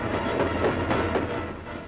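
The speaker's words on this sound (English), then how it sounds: "Boxcar after boxcar, a supply train for the armies to the east." A World War II supply train of boxcars rolls along French rails with a steady, muffled low rumble and faint rhythmic clicking of wheels, heard at a moderate distance with a dull, worn sound.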